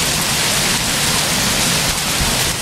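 Quarter-sized hail pounding a car in a dense, loud, continuous roar of impacts, close and unbroken throughout.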